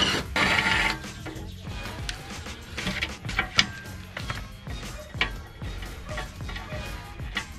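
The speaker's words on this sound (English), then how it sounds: "I use my torque wrench to get it off" Repeated ratcheting clicks from a torque wrench loosening the front skid plate bolts on a GMC Sierra 1500 SLE Crew Cab Z71, with a few sharper metallic knocks between the bursts.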